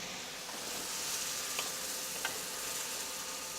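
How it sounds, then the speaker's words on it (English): Tofu sizzles steadily in a hot wok during Sichuan cooking as a wok spoon gently folds it through, a soft continuous frying hiss with a couple of faint clicks from the spoon. "And then just very gently with my wok spoon, folding it through."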